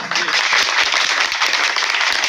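Thin, scattered audience applause at a public gathering on a teachers' recruitment issue, a steady patter of claps filling the whole stretch without voices on top.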